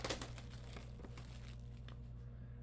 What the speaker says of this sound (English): Second box, go ahead and rip the plastic off of it.